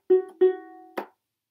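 A ukulele sounds a few short tapped notes, two quick ringing plucks followed by a sharper percussive tap, close and clear with nothing else around.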